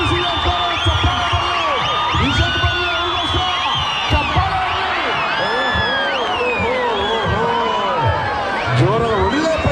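A large crowd at a mallakhamb competition during a Shivanahalli temple fair claps and cheers continuously, with whoops and shouts rising over a dense, steady roar of applause and voices.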